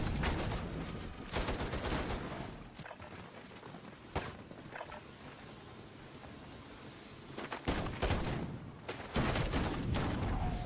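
Rapid bursts of gunfire from a Call of Duty multiplayer match, with dense automatic volleys and sharp reports filling the whole stretch at steady, loud level.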